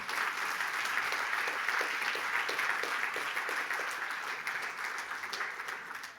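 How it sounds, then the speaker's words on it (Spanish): Congregational applause in a church, sustained dense clapping from a crowd at an even level for several seconds, fading slightly toward the end. "Dele fuerte el aplauso al Señor"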